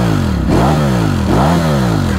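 A Ducati Streetfighter V4 motorcycle engine revs hard and close, its pitch swooping up and down twice in quick throttle blips over a loud, rumbling idle.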